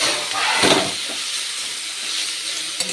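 Cut chicken hitting a hot frying pan, a loud hissing sizzle that swells at first, then settles into a steady crackling spatter.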